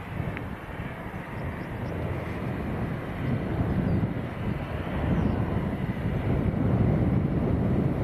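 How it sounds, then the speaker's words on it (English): An EasyJet airliner taxis toward the runway at Manchester Airport, a distant jet-engine rumble that builds gradually, mixed with wind buffeting on the microphone and no voices. "one of the EasyJets that's been packed up there as well is moving forward onto the runway"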